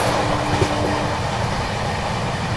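The Panchvalley Express passes a crossing in India, a loud, steady roar of rolling railcars with a faint clatter of wheels, close and continuous with no talk.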